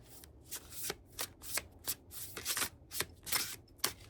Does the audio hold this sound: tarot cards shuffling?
yes